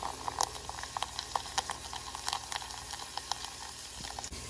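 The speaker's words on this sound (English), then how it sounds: "Find all the noise in the background. I am cooking chicken." Chicken cooks in a pan with butter in the background, giving a steady bubbling sizzle with scattered crackles and pops at moderate volume, with no voices over it.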